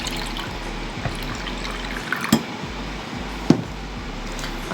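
Fresh coconut water pours into a blender jar in a kitchen, a steady, close liquid rush with a couple of small clinks from the glass, without any speech.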